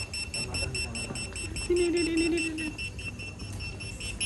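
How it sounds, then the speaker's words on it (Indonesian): A repeating electronic alarm beeps in a steady, rapid pattern throughout, signalling food is cooked at a restaurant in Malang, with a voice and kitchen noise underneath. "Alarm sudah berbunyi menandakan makanannya sudah matang"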